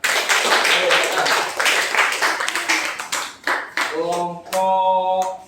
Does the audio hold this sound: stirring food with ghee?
no